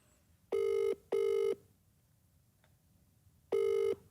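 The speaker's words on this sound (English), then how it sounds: "go on, Danny, answer your phone" A phone call ringing out, three steady electronic ring tones with a pause before the last, clear and alone.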